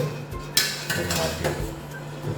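Softened lemons being scooped out of a pan with a metal spoon, a few sharp clinks and scrapes of metal against the pan in quick succession, close and moderately loud.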